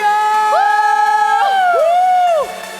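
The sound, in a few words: congregation cheering hallelujah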